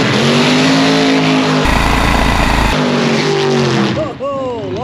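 Modified pink altered dragster with a 383 Chevy engine, two-speed Powerglide and nine-inch diff, screams loudly at the drag strip, then launches with a burst of heavy tyre squeal before the engine note rises and fades.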